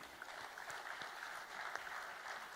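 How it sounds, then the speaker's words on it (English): Applause at an award ceremony for a coding contest, a steady wash of many hands clapping from a hall audience with no voices, holding even throughout. "A huge round of applause, please."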